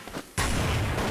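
A grenade explosion bursts loudly and abruptly in the video game Counter-Strike: Source on de_dust2, a sudden blast after a brief quieter lead-in, followed by sustained rumbling noise.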